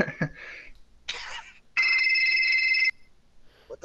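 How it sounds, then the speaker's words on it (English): A mobile phone rings with a bright, steady electronic tone lasting just over a second, fairly loud and close, between bursts of talk and background noise during an NBA 2K17 gaming session. "Sorry, my phone's ringing."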